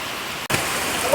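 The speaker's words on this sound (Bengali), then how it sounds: "বৃষ্টি আর বৃষ্টি বৃষ্টির দিনে কিন্তু ভালোই লাগে" Steady rain pours down on a rainy day near a pond, a dense even hiss with a brief dropout midway and no talk.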